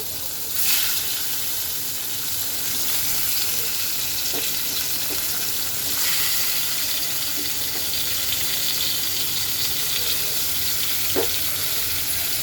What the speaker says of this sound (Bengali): এখন আমি এক এক করে পটলগুলো ভেজে নেব